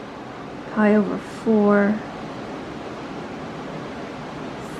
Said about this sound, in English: I don't know where you guys are today, but man, is it windy here.